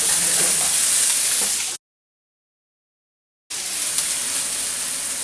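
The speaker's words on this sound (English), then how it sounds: "you're just going to cook that all together for about a minute" Ginger, onion and green onion frying in a pan give a steady, loud broadband sizzle, cut off by a stretch of total silence midway before the sizzling resumes.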